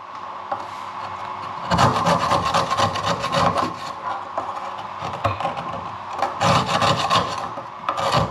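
Scale being scraped out of a urinal trap with a hand tool: a close, harsh rasping that starts after a quiet moment, runs in busy bursts, briefly eases, then picks up again.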